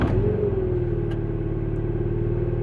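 A car engine cranks and catches, then settles into a steady, loud idle right up close after its ECU is put back in, a constant low rumble with a slight rise in pitch as it starts, and no voices.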